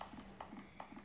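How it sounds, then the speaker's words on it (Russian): Rhythmic footfalls of the running character in the mobile game Temple Run 2, a steady clip-clop pattern of soft thuds about every 0.4 seconds, heard alone and fairly quiet. "это как будто его, звук его шага"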